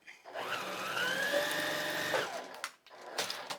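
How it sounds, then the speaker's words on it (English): A sewing machine stitches a paper-pieced quilt block in one continuous whirring run of about two seconds, then stops and leaves some faint handling noises. "So now I'm going to put this back in the machine. I'm going to open this and I'm going to sew it."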